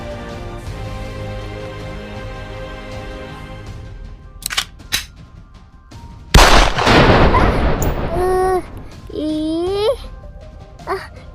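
Gunfire in the Sakura School Simulator video game, a few sharp loud bangs cutting through background music, followed by a short burst of chatter-like vocal sounds.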